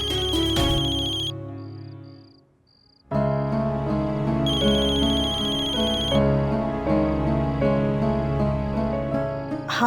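A phone ringtone plays a repeating melodic electronic pattern for an incoming call, loud and close, with a brief pause and soft beeps before the tune resumes and continues to the end.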